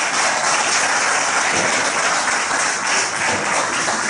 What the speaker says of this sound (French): Je vous prie de l'applaudir très fort.